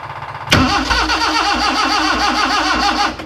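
A freshly rebuilt Morris Minor, cold and with a suspected fuel problem, is cranked with the choke on after many failed attempts. After a short quiet moment the starter churns loudly and rhythmically for about three seconds and the engine catches briefly.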